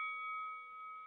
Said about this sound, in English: that bell right there says we got just about 2 minutes left